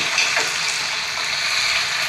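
Watery masala poured into a simmering brinjal curry, a steady wet hiss and splashing gush with faint bubbling underneath, close and continuous.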